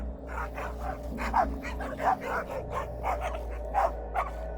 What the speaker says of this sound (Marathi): मला फोनवर कुत्र्याच्या भुंकण्याचा आवाज ऐकू आला